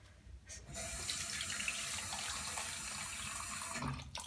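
Hot water pours steadily into a plastic container, a continuous splashing rush that starts after a brief pause and runs for about four seconds before cutting off.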